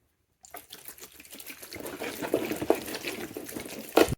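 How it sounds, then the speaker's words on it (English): Rubbing alcohol poured over soaking garlic cloves in a container, a steady close liquid pour and splash building over several seconds with a brief louder gush near the end. "now I'm just gonna go ahead and add the alcohol"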